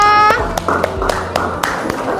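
Classroom applause for a student presenting a drawing: brief clapping bursts from children, loud and close, mixed with chatter and a teacher's voice over about two seconds.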